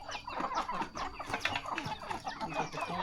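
Free-range chickens clucking in a rural Thai yard, a busy overlapping chorus of short clucks and calls from several birds at close range, moderately quiet with no talking.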